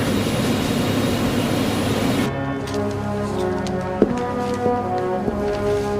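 Jet airliner engines before takeoff drone loudly and steadily as a deep rumbling whine, which drops to a quieter hum partway through, with a few faint knocks.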